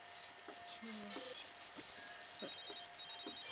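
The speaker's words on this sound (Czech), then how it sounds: "Možná zvoní telefon." A telephone rings with repeated electronic tones in The Sims 3 life-simulation game, sounding in short bursts alongside other game sound effects at moderate level.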